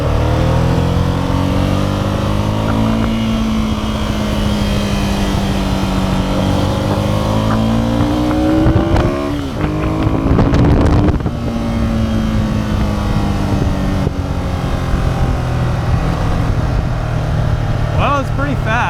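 A 2002 Ducati Monster 750ie motorcycle accelerating through first and second gear, a loud, close engine drone that climbs in pitch, drops briefly at the shift and then climbs again, with heavy wind rush and a voice in places.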